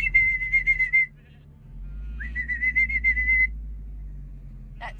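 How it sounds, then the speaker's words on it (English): A herding whistle directing a sheepdog, given as two long shrill whistled phrases with a short chirp at the end, close and loud over low steady wind rumble. "That's like the stay there and weave whistle."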